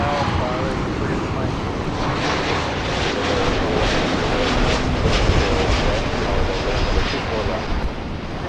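An Alaska Airlines jet arriving on the north runway at LAX, a rumbling engine roar that grows louder toward the middle, with voices talking over it.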